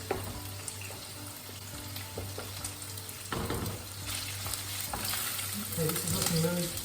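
Bacon frying in a pan for a creamy tagliatelle, a steady crackling sizzle with occasional stirring scrapes, growing a little louder toward the end, with no talking.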